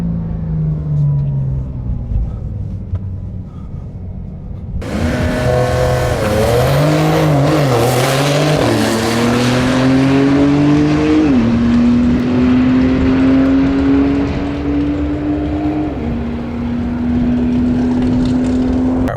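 A Porsche 911 Turbo S launching for a quarter-mile drag run, starting from a low idling rumble before the engine suddenly roars and then pulls hard, its pitch climbing through several gear changes. Loud and close throughout.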